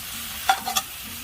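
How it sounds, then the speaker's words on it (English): Shrimp dropped onto a hot Blackstone griddle, a low constant sizzle with a short burst of louder crackle and a couple of quick scrapes. "Now we're going to get our shrimp on."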